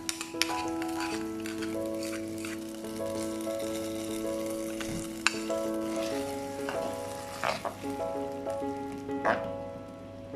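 Ghee-fried cashews and raisins tipped into bread payasam give a soft crackling sizzle beneath steady background music, with a few small clinks near the end.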